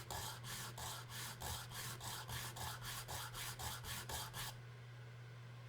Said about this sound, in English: Turn it this way to make sure I keep sanding evenly.